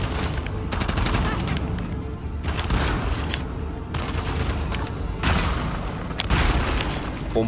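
A pump shotgun fires in the Uncharted video game, several loud blasts spaced a second or two apart amid other gunfire and game noise, with a faint voice in the background.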